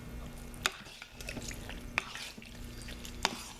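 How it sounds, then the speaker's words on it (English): Hot process soap ingredients spiced with cinnamon being stirred in a pot, giving a steady low churning with a few sharp clicks of the spoon against the side. "we're going to stir them all up"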